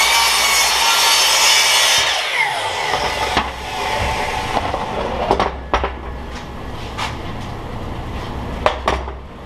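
Wood is cross-cut in a home workshop: a loud, whirring saw cut winds down after two seconds, then comes scattered clattering and knocking of wood and tools.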